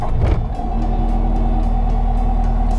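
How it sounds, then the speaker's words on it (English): A Caterpillar machine fitted with an LT13B tiller attachment fires up with a brief rough rumble, then holds a loud, steady engine drone close by. "I'm starting the machine up."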